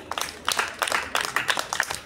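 Children applauding in a group, a steady burst of quick, bright hand claps with a rhythmic pulse, moderately loud and continuing throughout without speech.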